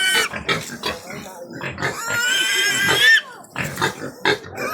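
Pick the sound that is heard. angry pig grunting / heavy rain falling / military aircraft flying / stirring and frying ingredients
angry pig grunting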